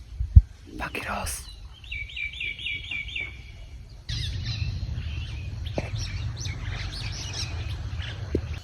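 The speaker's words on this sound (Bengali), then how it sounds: "পাখির আওয়াজ।" Birds chirp in a forest area on a winter morning: a quick run of repeated chirps, then scattered calls over a steady low rumble, with a faint voice at times.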